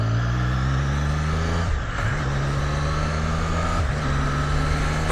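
A motorcycle accelerating with quick shifter gear changes, a loud steady engine drone broken by two quick dips where the gears shift, then the pitch carries on climbing.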